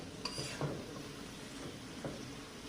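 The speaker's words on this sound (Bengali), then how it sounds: "আমি এবার টমেটোগুলো দিয়ে দিচ্ছি। টমেটোটা একটু কষাই নেব।" Raw tomatoes get stir-fried in a pan with flat beans for a Japanese rui fish curry, producing a quiet sizzle with a few soft spatula scrapes and taps. No voices.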